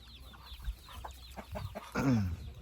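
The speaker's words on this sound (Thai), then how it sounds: "นี่เป็ด" A duck on a farm in Fresno, California, gives a few soft, scattered clucking calls, then one louder, close, falling quack near the end.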